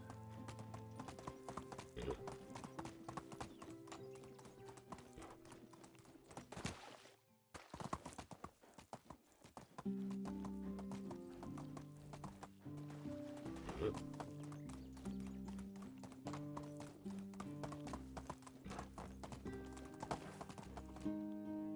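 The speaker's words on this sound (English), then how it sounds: "Where's my horse? Come on, horse, let's go." Horse hooves clip-clopping at a steady rhythm in the medieval life-sim game Medieval Dynasty, with an occasional whinny and game music under the gallop, continuous and close for most of the stretch.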